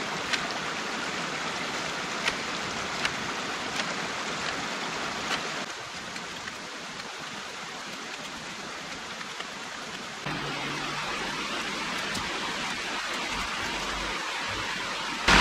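Water from a brush-choked creek overgrown with blackberries and fallen trees flows steadily, a continuous close wash of rushing noise with no pauses.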